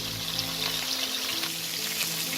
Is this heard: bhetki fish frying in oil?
yes